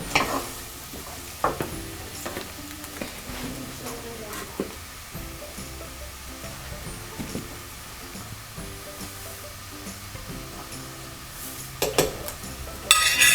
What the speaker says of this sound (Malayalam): വെളിച്ചെണ്ണ ചൂടായിട്ടുണ്ട്. ഞാൻ സവാള ചേർക്കുവാണ് അതിനകത്തേക്ക്.